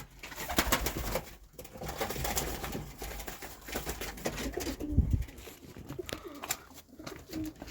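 Soft coos of breeding pigeons rise and fall inside a loft, with rustling, shuffling and faint clicks nearby.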